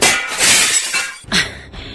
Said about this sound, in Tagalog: Ngayong nabasag ko na ang bintana ng kotse mo